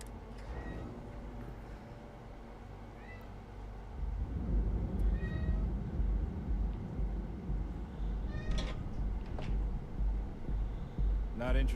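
A cat meows a few times in short high calls, fairly faint, under a low engine rumble that grows louder partway through, with people talking nearby.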